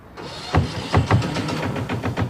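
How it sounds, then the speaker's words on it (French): A fishing boat engine cranks and catches, settling into a steady, rhythmic chugging idle with repeated low thumps, close and moderately loud. "Ah, ça c'est du bon moteur de pécho ça."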